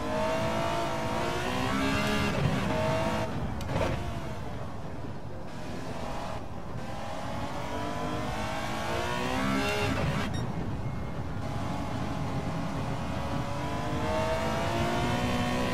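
A race car at full throttle in the Super License S-10 test of a racing video game, its engine note climbing and shifting through gears in a loud, continuous drone with brief dips between revs.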